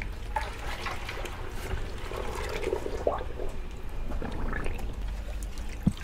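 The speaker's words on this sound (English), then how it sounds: "So now we're gonna go ahead and drop the hide down in there and let it soak for about 24 hours." An alligator hide is lowered into a 5-gallon bucket of tanning solution, giving continuous sloshing, trickling and splashing water with a few sharper plops, close and moderately loud.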